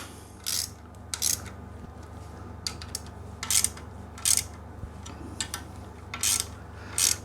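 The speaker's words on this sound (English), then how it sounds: "we'll take our 8mm socket and tighten up the 4 bolts" An 8mm socket ratchet tightening bolts on a KTM 390 bash plate, with brief bursts of quick clicking strokes repeated about eight times over a low steady background hum.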